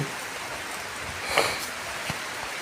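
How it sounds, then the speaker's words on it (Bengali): Heavy rain pours down onto trees and foliage, a steady dense hiss of drops with a few sharper splashes rising out of the wash, constant and unbroken throughout with no voices. "উপর থেকে ঝনঝন করে বৃষ্টি পড়তেছে"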